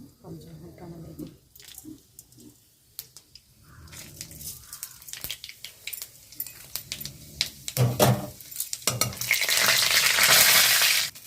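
Whole dried chillies and panch phoron spices drop into hot oil in a pan, with quiet bursts before a loud, steady sizzle builds and holds near the end, while a person talks over the early part.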